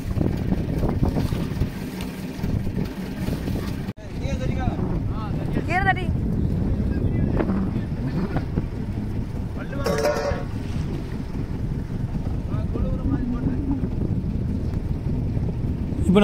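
A fishing boat out at sea in strong wind, with constant heavy wind rumble and water wash running throughout, the motion and noise loud and close.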